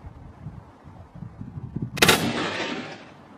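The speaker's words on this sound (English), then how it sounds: "Shot my first chamois buck just over the hill here" A single loud rifle shot fired while hunting chamois in New Zealand hill country, a sharp crack followed by a long rolling echo, after a few soft handling sounds.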